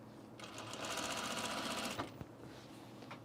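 Sewing machine stitching a seam on an unlined auburn blazer, a fast steady mechanical whir running for about two seconds, then stopping with a couple of small clicks.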